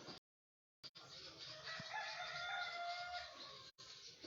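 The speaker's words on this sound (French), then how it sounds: "On a un nouveau coq qui s'appelle Simplice." A rooster named Simplice crows once in a long, drawn-out call, fairly faint against quiet surroundings.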